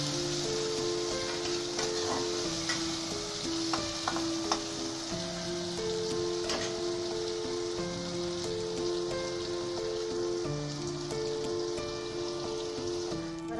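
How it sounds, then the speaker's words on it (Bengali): Onion, green chilli and tomato fry in hot oil while being stirred, a dense, even sizzle with scattered spatula clicks and scrapes, with soft sustained musical tones underneath. "এবার আমি ভালো করে নাড়া দিয়ে নেব"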